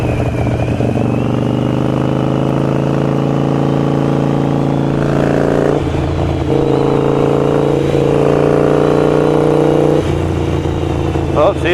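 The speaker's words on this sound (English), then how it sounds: "So we're over here just trying to get some exhaust clips." A Harley Sportster fitted with Vance and Hines Grenades exhaust idles with a deep, loud, steady rumble, blipped with a few revs that rise and fall before settling back to idle.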